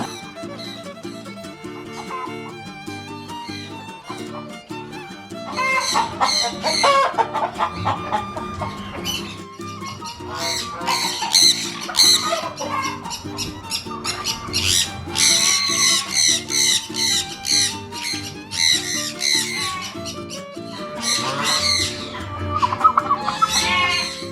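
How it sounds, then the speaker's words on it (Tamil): Chickens, including guinea fowl and crested and uncrested hens, cluck and squawk on a farm near Trichy, repeated bird calls rising and falling, fairly close, over a steady background with no talk. "அதே மாதிரி ஏகப்பட்ட கோழி வகைகள், கின்னி கோழி, கொண்டை வச்ச கோழி, கொண்டை இல்லாத கோழின்னு ஒரு கூட்டமே இருக்குது"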